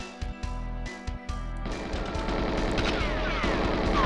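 Gunfire in the GoldenEye 007 video game on Xbox Series X, first a few separate sharp shots, then a dense continuous burst of rapid automatic fire that builds in loudness, with no talking.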